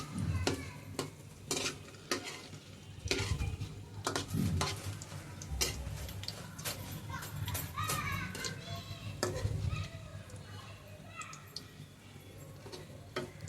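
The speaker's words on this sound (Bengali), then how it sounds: "ভাজা হচ্ছে আস্তে আস্তে। চুলা লো হিটে দিয়ে আস্তে আস্তে ভাজতে হবে" Bread pakora frying slowly in oil over low heat: a steady soft sizzle with occasional scrapes and clinks of a utensil, while children's voices and background chatter carry on throughout.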